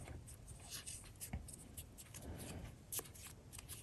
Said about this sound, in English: And then you're going to cut the wing.